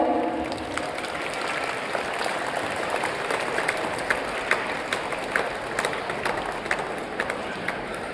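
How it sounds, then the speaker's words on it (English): Steady applause from a school event audience, many hands clapping continuously at moderate volume, with a few sharper claps standing out near the end. "you should clap for them."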